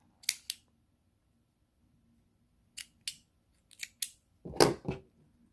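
Scissors trimming the tail of crochet yarn on a face mask: a few crisp, close snips in pairs with quiet gaps between, ending in a slightly longer cut.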